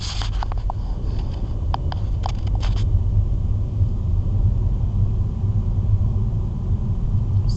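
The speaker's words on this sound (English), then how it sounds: "So now I accelerate and make my right turn" A car accelerates through a right turn, its engine a steady low rumble from inside the cabin, with a few clicks near the start.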